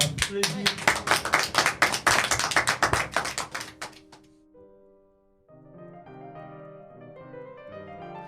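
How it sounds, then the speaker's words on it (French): Audience applause bursts out loud and dense for about four seconds, then fades away as sustained music takes over. "Merci, on peut l'applaudir."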